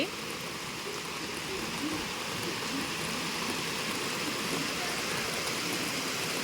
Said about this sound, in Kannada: ಹೆಂಗೆ ಜೋರು ಮಳೆ ಹೊಂಟದಂದ್ರೆ ಭಾಳ ಜೋರದ ಮಳೆ ನೋಡುವಂತ್ರಿ